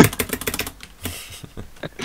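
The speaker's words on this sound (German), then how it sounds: "Tastengeräusche habt ihr natürlich auch vermisst, ich weiß es." Clicking of a Roccat computer keyboard, a quick run of crisp, close key taps with a heavier thunk of the space bar, loud and dry with no voices.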